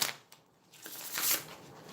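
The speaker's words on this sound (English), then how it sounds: "be patient with me while I'm shuffling" A deck of oracle cards is shuffled by hand, a soft close riffling and rustling that builds to a brighter flurry of card noise near the end, with no talk.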